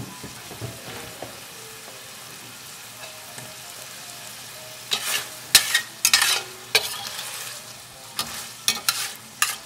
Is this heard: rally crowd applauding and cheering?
no